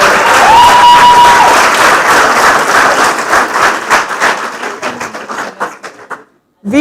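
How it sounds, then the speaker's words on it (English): A conference audience at an open-source community tech event claps loudly and continuously in sustained applause that thins out into scattered claps before stopping, with a brief whistle near the start. "Please, can you give him another round of applause?"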